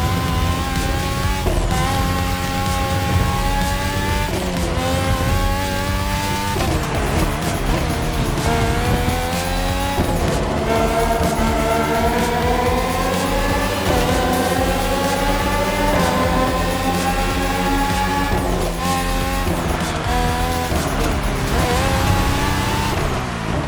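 Red Bull F1 race cars, RB13, RB14, RB18 and RB20 with Renault and Honda engines, race in The Crew Motorfest, their loud high-revving engines screaming continuously and rising and falling through repeated gear shifts.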